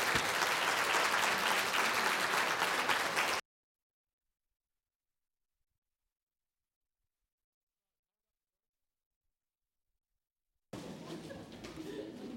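Audience applause for a speaker being introduced at an inspiring women event, a dense, steady clapping burst for about three seconds, then a long silence before a quieter round of clapping returns near the end.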